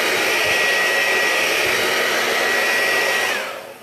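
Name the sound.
hair dryer drying chalk paste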